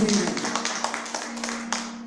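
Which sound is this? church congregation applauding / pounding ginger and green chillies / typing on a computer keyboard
church congregation applauding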